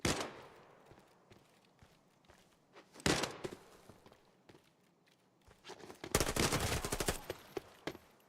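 Gunfire in the shooter Arena Breakout Infinite: sharp, loud bursts of shots at the start, around three seconds and in a sustained volley near six to seven seconds, with scattered footsteps and quieter clicks in between.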